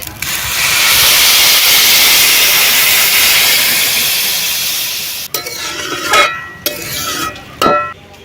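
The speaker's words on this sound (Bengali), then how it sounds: "যত বাটি চাল ডাল নেব তার ডবল জল দিতে হবে জল দিয়ে দিচ্ছি" Water poured into a hot pot of rice and lentils for khud bhaat bursts into a loud, sustained steaming hiss for several seconds, fading before a few sharp clatters and brief sizzles.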